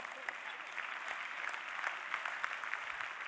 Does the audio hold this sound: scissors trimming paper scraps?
no